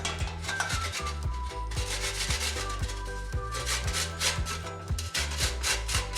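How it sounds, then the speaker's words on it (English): Fresh coconut scraped on a hand grater for gizzada filling gives repeated rhythmic rasping strokes, close and steady, with a short pause before the strokes resume, and no talk. "Get yourself a nice grater."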